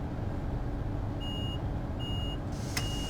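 Door-closing warning beeps on a DB Talent 2 train on the Dresden regional line in Train Sim World 4: two steady electronic tones repeat at an even pace over a constant low cab rumble, with a brief click near the end.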